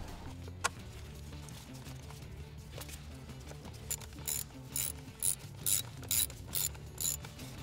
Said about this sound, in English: Now we'll bolt it down.